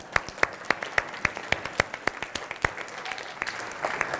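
An audience claps for family members at a talk, with sharp, distinct handclaps standing out at first over a lighter patter, then settling into a softer, denser applause that starts to fade.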